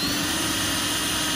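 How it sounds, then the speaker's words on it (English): A power drill whines steadily while boring holes through metal bush plane parts, a loud close continuous drone with no pauses and no talk. "So right now I'm drilling the holes that will be where I bolt the two pieces together."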